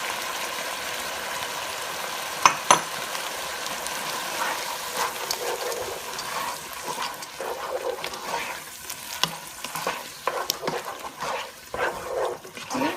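Potato chunks and ground beef pieces hit hot oil in a pan for curry, giving a steady sizzle and frying crackle with occasional stirring scrapes and clinks, close and moderately loud without speech.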